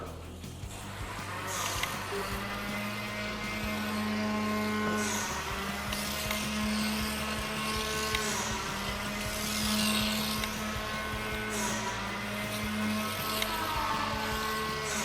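A T-Dash Gen2 pancake slot car motor whines continuously as the car crawls around the track, a steady, moderately loud electric hum with shifting pitch as it slows and speeds up through the corners.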